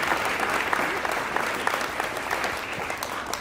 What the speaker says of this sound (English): so they need a round of applause for doing that